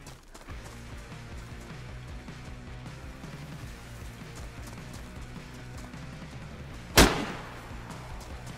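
A single sharp, loud gunshot rings out in DayZ on Namalsk near the end, standing alone above a steady background of clopping, running movement.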